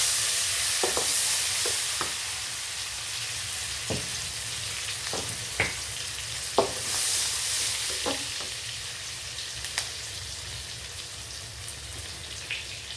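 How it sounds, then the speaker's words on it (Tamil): Sliced onion sautéing in oil for a radish curry, a constant close sizzle and crackle with scattered knocks and scrapes of a spoon against the pan throughout. "வெங்காயம் கொஞ்சம் வதங்கணும்."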